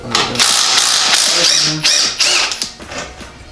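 A socket ratchet loosening a bolt during an engine swap build: loud, close bursts of rapid clicking ratcheting that stop and restart, with a brief voice nearby.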